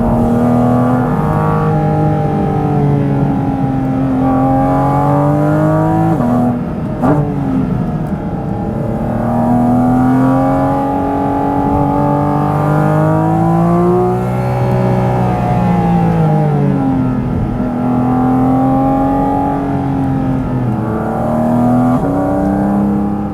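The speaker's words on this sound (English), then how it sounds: "The gearbox is also very precise, blips the throttle on the downshifts, and upshifts are pretty much seamless." A 2023 Porsche 718 Cayman GT4 RS engine drones loudly and close, its pitch sweeping up and down through gear changes with quick throttle blips on downshifts, no speech.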